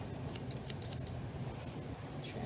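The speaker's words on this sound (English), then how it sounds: "we go back here up his neck to his head, and we're gonna trim" Scissors snip through an English Springer Spaniel's coat along its neck and head, quick repeated metallic cuts in uneven bursts, close and fairly quiet.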